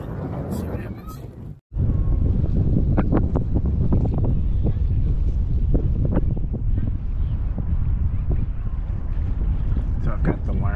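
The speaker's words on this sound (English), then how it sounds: "It's a little windy." Gusty wind buffets the microphone in a loud, low rumble that keeps surging and fading.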